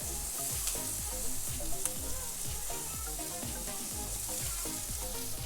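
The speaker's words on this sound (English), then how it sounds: "I'm gonna go ahead and throw in and saute some vegetables. I've got red pepper, green pepper, mushroom" Red pepper, green pepper and mushroom sauté in a pan, a loud steady sizzle close up with rhythmic stirring scrapes and no talking.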